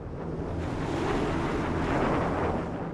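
Ocean waves wash steadily around an island surrounded by sharks, a broad continuous roar of surf with wind rushing across it and no voices.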